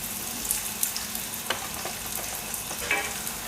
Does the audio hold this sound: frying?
yes